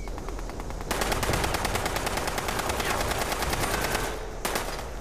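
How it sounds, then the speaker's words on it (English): Rapid automatic gunfire in the video game Fallout 76, with a steady stream of loud, evenly spaced shots firing for about three seconds before stopping briefly and starting again. "Somebody else is shooting me from the camp."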